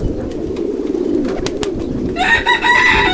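Pigeons on a pigeon farm coo close and loud in a low throaty murmur, with a few sharp clicks and wing-like flutters, and a brighter, higher bird call joining near the end.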